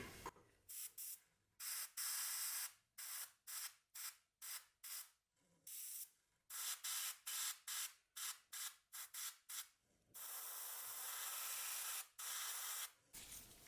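Short bursts from an airbrush or spray can hiss out one after another, laying an anti-slip texture coating onto the interior of a 1/48 MH-60L Black Hawk scale model, ending in two longer sustained sprays; close and with no talking.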